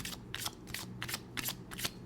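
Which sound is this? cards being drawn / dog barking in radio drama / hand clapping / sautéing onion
cards being drawn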